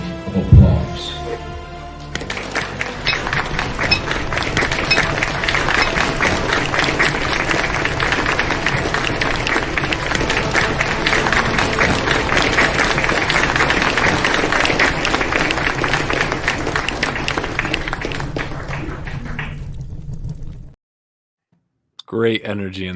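Sustained round of applause during a toast on a comic-book talk show, a dense steady patter of clapping lasting about twenty seconds before cutting to silence, with faint voices mixed in.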